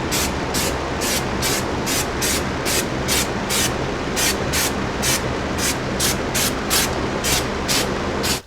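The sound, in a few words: spraying rubber undercoating on a Jeep Cherokee XJ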